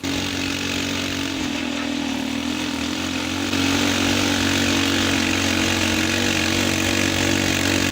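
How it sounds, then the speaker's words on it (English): A homemade helicopter engine built from scratch in Uganda runs steadily and loudly, a continuous droning roar with a propeller-like hum that thickens slightly midway as the blades engage. "Engine roars, the blades engage, and the machine begins to move, to shake, to come alive."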